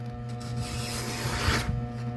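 A Gerber third-generation multifunctional survival knife slices through material in a sharpness test, giving a continuous close rasping, scraping stroke that swells briefly near the end.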